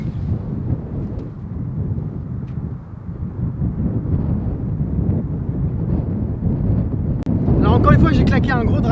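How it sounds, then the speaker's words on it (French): Strong sea wind buffets the microphone on a seaside golf course on the Côte d'Opale, a loud continuous rumbling roar, with a voice talking near the end. "il y a du vent les gars, ça souffle"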